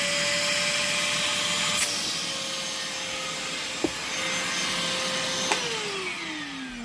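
A VacMaster 2.5 gallon, 2 horsepower shop vacuum runs continuously with a loud, steady roaring whine, its pitch shifting slightly as debris is sucked up with a few sharp clicks and rattles.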